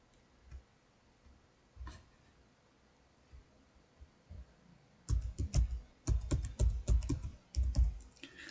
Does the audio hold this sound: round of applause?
no